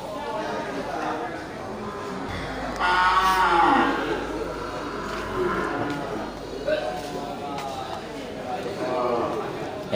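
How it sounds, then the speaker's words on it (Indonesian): Aceh cattle in a livestock pen or market, one cow giving a loud low moo while someone talks nearby and others move about. "semua terlihat ini sapi-sapi Aceh"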